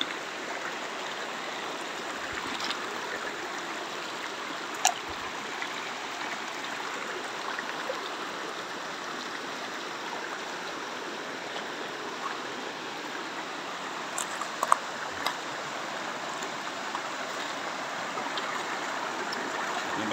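Fast-flowing river on a mountain slope, a steady broadband rush of water that stays constant and close, with a few faint clicks on top.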